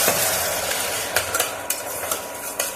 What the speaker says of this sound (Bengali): একটু জল দিয়ে নাড়া করবো।